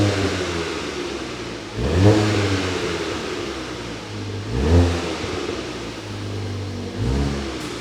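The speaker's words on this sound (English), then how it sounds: "We'll give it a little rev." A Volkswagen Golf GTI Performance (Mk7.5) hatchback engine idles with a steady low hum, revved briefly three times in sharp, rising bursts that quickly fall back.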